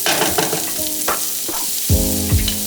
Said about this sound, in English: Add the diced shallot and rosemary to the pot.